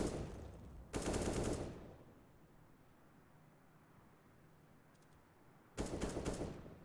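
Bursts of automatic gunfire spraying at a cornered player in a Counter-Strike pro match, BIG vs Heroic: a loud rapid volley, a long quieter stretch, then another heavy burst near the end.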